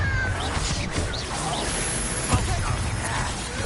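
A cat meows in the video game Hogwarts Legacy, several short mews rising over a busy background of ambient game noise and a brief clatter near the end.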